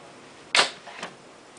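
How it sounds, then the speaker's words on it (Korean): Clicks from the Haselnuss Bande squirrel board game: one sharp, fairly loud snap, then a softer second click about half a second later, close by against a quiet background. "찰칵 소리가 날 때마다 어떤 다람쥐가 먹이를 찾았을지 궁금해지는 게임"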